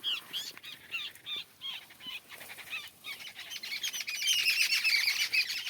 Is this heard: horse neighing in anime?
no